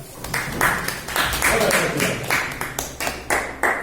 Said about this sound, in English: you clap her